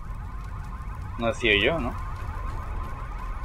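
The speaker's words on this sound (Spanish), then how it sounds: "Las alarmas." Alarms sound in the video game Bionic Commando as a steady electronic tone that runs throughout, with a brief spoken remark over it partway through.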